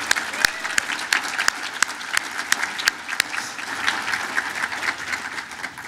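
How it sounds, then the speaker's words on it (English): At a business appreciation breakfast in Northglenn, a room full of people applauds local businesses, with steady clapping and occasional sharp nearby claps over a light murmur of voices. "Let's give all our North Glen businesses a big round of applause."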